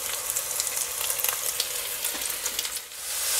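Crushed garlic, celery and red peppers fry in a pan with a loud, continuous, close-up sizzle and a light crackle throughout.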